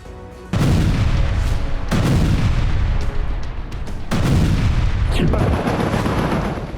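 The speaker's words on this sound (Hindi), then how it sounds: "न जमीन से आती गोलियों की तड़तड़ाहट खामोश हो रही है" Heavy gunfire and artillery in the Gaza war: several deep, booming blasts land about every second or two over a constant loud rumble of distant fire, with no voices.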